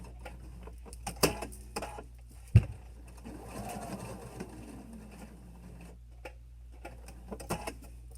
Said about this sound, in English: excuse my stitching noises